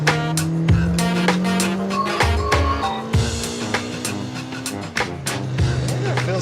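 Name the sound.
JDM sports car being driven, engine revving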